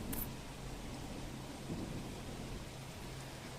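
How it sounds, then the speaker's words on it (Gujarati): Heavy rain pours steadily with wind noise, and low thunder rumbles underneath, swelling briefly near the middle, during a downpour in Sabarkantha. No one speaks. "ગાજવીજ અને પવન સાથે ધોધમાર વરસાદ વરસી રહ્યો છે"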